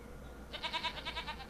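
Goats bleat inside a goat barn in the video game Farming Simulator 25, a short burst of quavering, wavering cries that starts midway, faint and somewhat distant over a low steady hum.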